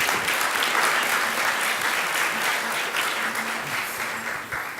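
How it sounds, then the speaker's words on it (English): An audience at an HR conference luncheon gives sustained, dense applause as the keynote speaker walks onto the stage, the clapping holding steady for several seconds with no talk over it. "encourage you to applaud him as he joins us on the stage"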